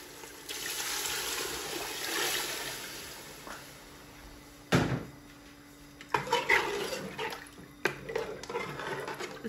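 Water mixed with yakhni stock poured into a pot of rice for lamb pulao, a soft splashing trickle at first, then louder pouring splashes and clinks of the pot.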